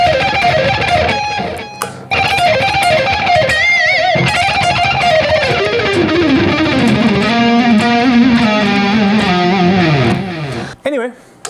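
Heavily distorted electric guitar, a Mayones QATSI on its middle pickup, playing rapid alternate-picked runs and shifting melodic lines, loud and continuous, ending abruptly.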